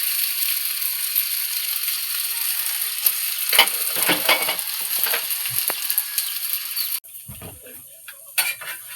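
Beaten egg frying with bitter gourd (ampalaya) in a pan: a loud, steady broadband sizzle with scraping stirs, which drops off sharply near the end and leaves a few quieter clatters.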